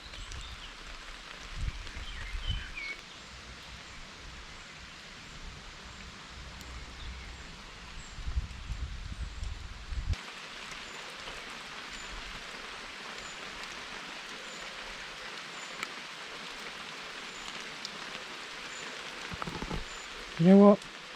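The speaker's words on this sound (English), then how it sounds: "I like walking in the rain." Rain falls outdoors during a walk, a steady soft patter and hiss that continues throughout, with a few louder rustles and a brief sharp burst near the end.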